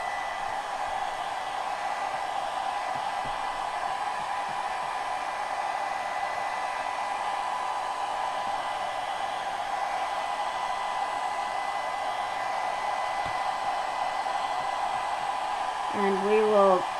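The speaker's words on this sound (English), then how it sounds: "Now I'm going to take my blow dryer because I want that to get dry." Blow dryer on its lowest setting drying a chalk transfer: a steady, close, even hiss and hum that runs unbroken for the whole stretch, with a brief faint sound near the end.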